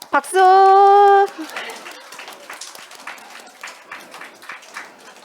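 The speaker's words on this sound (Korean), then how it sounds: "박수." Children clapping during an elementary church service, a scattered round of claps following a loud sustained tone at the start, fairly close and moderately loud, with voices mixed in.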